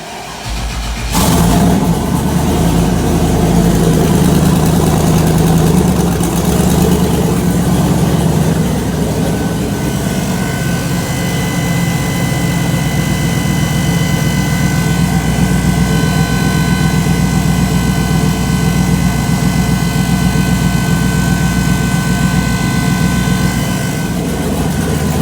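A car engine fitted with a Magnafuel 4303 dual fuel pump setup and 750 injectors cranks over in a garage, catches and settles into a loud, steady running drone with a constant high whine from the pump that lasts throughout.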